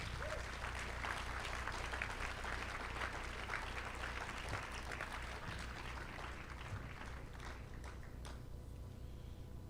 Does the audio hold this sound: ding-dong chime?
no